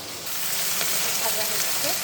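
Tilapia fish frying in hot oil gives a loud, steady, close sizzle that runs without a break for about two seconds.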